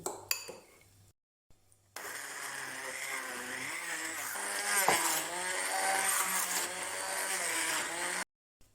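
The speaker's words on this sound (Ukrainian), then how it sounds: "я переб'ю її блендером." A handheld blender whirs steadily through a cottage cheese filling mixed with sugar, vanilla sugar and egg. It starts after a few short clicks and silences, runs loud and constant for about six seconds, then stops abruptly.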